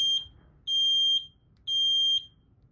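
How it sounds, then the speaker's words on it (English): A loud electronic alarm from a bicycle anti-theft tracking system sounds in three piercing, steady high-pitched beeps, each lasting about half a second with short gaps between them, heard alone without any talk. "Next, we will be showing you the alarm that will be on our tracking system."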